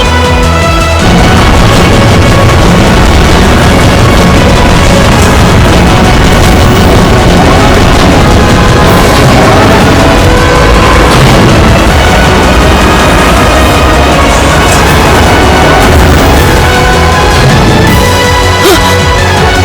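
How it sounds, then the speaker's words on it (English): Railway guns firing in the video game Trails of Cold Steel, a dense, loud, continuous wash of booming blasts and rumbling game sound that runs unbroken for the whole stretch, with no talk. "Railway guns."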